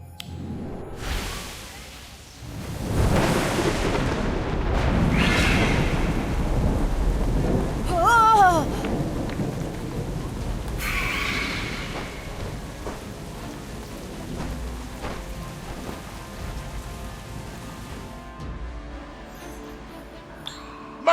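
A thunderstorm with steady rain pouring on surfaces and deep rolling thunder, loud claps early on and a whooshing gust midway, the downpour continuing throughout without speech.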